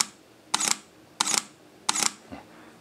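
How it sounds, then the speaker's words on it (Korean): Three crisp mechanical shutter releases from a Sony A7R II mirrorless camera, evenly spaced about two-thirds of a second apart, each a short sharp double click, close and clear in a quiet room. "이 정도의 일반적인 셔터음이 되겠고요."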